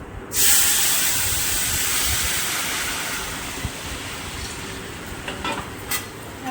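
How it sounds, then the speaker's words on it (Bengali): Lentils hit hot tempering oil in a Bengali kitchen and burst into a loud hissing sizzle that slowly settles into a steady frying crackle, close by with no talk. "ফোড়নটা ভালো ভালো হয়ে গেছে, এবার আমি ডালটা সাঁতলে দেবো।"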